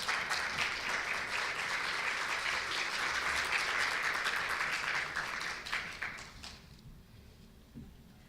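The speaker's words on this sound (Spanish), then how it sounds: "Le damos un aplauso." Audience applause at a regional meeting of women politicians, steady clapping that holds for about five seconds and then thins out and dies away into a quiet room.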